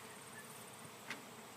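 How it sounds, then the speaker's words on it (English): Honey bees hum softly in front of an outdoor beehive during an inspection, a faint continuous drone with one brief closer buzz passing by. "A lot of bees are definitely out doing their thing in front of the hive right now."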